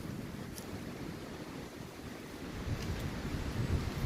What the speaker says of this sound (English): We're getting a lot of winds in the background now.